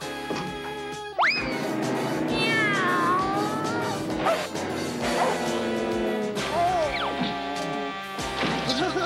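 A cartoon cat meows and caterwauls, loud and close, over busy animated music with crashes and smacks around it.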